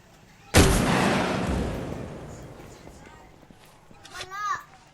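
A loud explosion in the Minecraft video game booms in suddenly near the start and then decays slowly. Children talk excitedly over the blast and its fading rumble.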